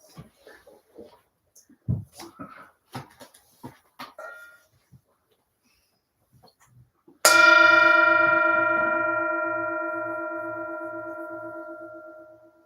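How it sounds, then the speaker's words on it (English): A meditation bell struck once during a service rings out clear and close, its bright tone sustaining and slowly fading for several seconds, after a few soft scattered sounds and a brief dog whimper. "I'll invite the bell to sound."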